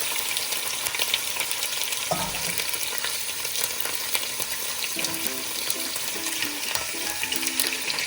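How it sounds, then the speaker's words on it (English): Meat for nihari sears in hot oil, giving a steady, close crackling sizzle with a sudden burst as pieces drop in, followed by stirring scrapes and bubbling. "So now that our oil has heated up, as you can see, it's time to sear and to put in the meat"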